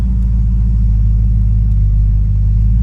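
A 1967 Chrysler New Yorker with a 440 engine pulling away under light throttle, a loud, steady, deep rumble heard from inside the car with no talking.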